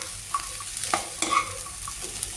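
Soybean, peanut and chickpea masala sautéing in a pan with chilli flakes, giving a soft steady sizzle broken by a few light scrapes and clicks of stirring.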